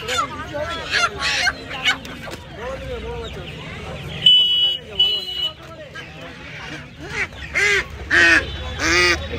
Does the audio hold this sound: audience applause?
no